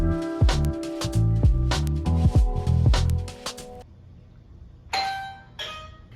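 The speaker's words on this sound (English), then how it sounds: "that was the doorbell." A doorbell chimes repeatedly in a loud, close, rapid melodic sequence of ringing tones for several seconds, then two shorter bright chimes follow after a pause.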